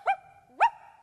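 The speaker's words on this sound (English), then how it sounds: "Don't interrupt when someone's barking." Miss Locke's dog Willoughby barks twice on a stage set, two sharp yelping barks about half a second apart, clear and fairly close with no talking.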